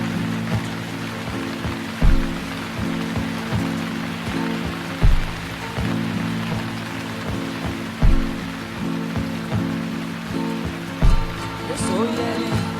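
Steady rain falls with a constant close patter on surfaces, broken by a few regular dull thuds.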